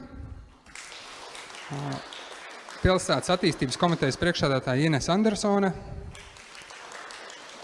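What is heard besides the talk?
audience applause at a workshop opening ceremony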